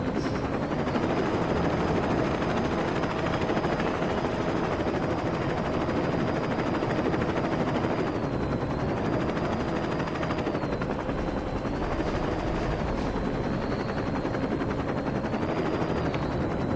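A helicopter's rotor whirs steadily and loudly with a constant engine drone, in-game aircraft audio from Saints Row 2, with no speech.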